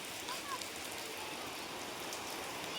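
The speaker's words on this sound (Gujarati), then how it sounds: "સરસ મજાનો વરસાદ પડે છે" Steady rain falls in the morning as a continuous, even hiss with no distinct drops standing out, fairly faint throughout.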